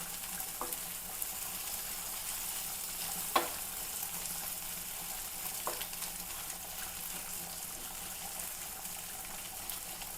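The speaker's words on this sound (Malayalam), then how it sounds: "കനം കുറഞ്ഞ കഷ്ണമായതുകൊണ്ട് അധികം പെട്ടെന്ന് മൊരിയും" Thin stingray pieces frying in oil, a steady close crackling sizzle that runs the whole time, with a couple of faint light knocks from utensils and no talking.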